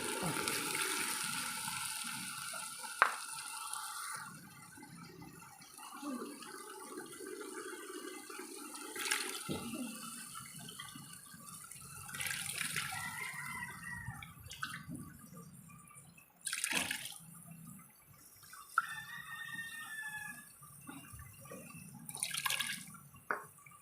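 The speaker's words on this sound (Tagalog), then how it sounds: "ngayon guys, maglalagay na ako ng dugo ng pork" Pork blood poured into a pot of pork pata dinuguan, a soft liquid trickle and splashing with drips and a few sharp clinks of utensils, close and fairly quiet.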